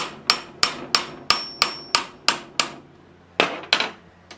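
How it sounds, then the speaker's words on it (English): A workpiece clamped in a vise in a shop takes a series of sharp metallic hammer blows, about eleven evenly paced strikes with a short pause before the last three, each ringing briefly and close. "So if I just hammer right there,"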